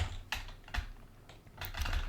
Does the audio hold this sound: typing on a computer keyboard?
yes